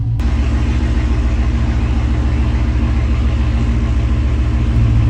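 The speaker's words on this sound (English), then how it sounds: "All right, we're about to race this white Mustang." A white Whipple-supercharged Mustang with an ESS kit races a 1000-horsepower Trackhawk, giving a steady, loud, droning engine roar that holds constant for several seconds without talk.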